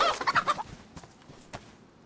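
A chicken in the survival game DayZ clucks in a quick burst of several close, fairly loud notes, followed by a few fainter, scattered clucks.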